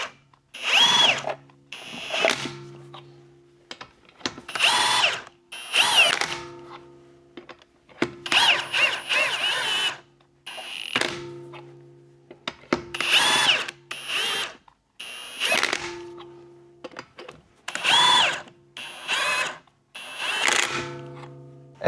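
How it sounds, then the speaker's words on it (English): An impact gun runs the lug nuts onto a wheel while a Jeep wheel is being fitted to a Volkswagen Touareg. It fires in repeated short bursts of whirring and rattling hammering, close and loud, separated by brief pauses. "I'm gonna use this impact gun and just touch these nuts onto the"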